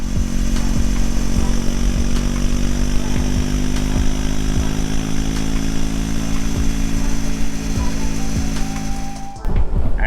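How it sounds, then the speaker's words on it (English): Motorcycle engine droning steadily at 5000 rpm while cruising at 90 km/h on the highway with a pillion and luggage, loud and constant with wind noise, cutting out abruptly near the end. "I am like doing for 5000 rpm and going at 90 kmph with the pillion and luggage."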